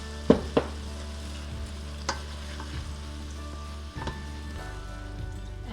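Calabash squash simmering and sizzling softly in a pan, a low steady frying hiss broken by a few faint clinks and stirring knocks, with no voices.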